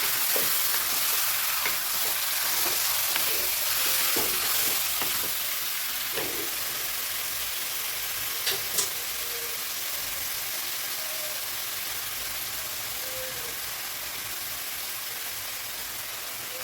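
Three quarters of a kilo of chicken pieces sizzling and frying in a pan for chicken kulambu, with a steady hiss and occasional soft scraping stir strokes, close and fairly quiet.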